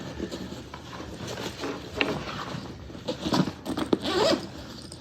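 A Pakt travel backpack being unzipped all the way open, the zipper rasping in a series of short close pulls with fabric rustling and no talking.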